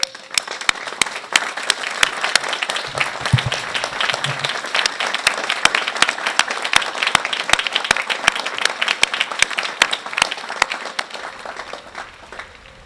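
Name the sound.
audience applause at law school commencement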